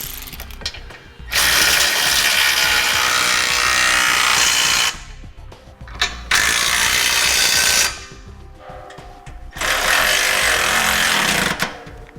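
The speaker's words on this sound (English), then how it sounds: "Now with all our hardware in place, we'll go ahead and tighten it down and torque to specifications as indicated in instructions." Ratchet tightening trailer hitch hardware and a flange nut while installing a Curt trailer hitch receiver on a 2015 Chevrolet: three long, loud bursts of rapid clicking ratcheting, each a few seconds long, separated by short pauses, close up.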